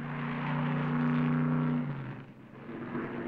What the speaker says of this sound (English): With Allison disabled, Baker eases off the throttle of his Dodge.